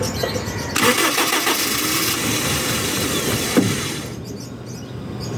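A car engine with a broken fuel pump cranks and briefly catches before dying, a loud, close, ragged mechanical churn running for several seconds and then fading away.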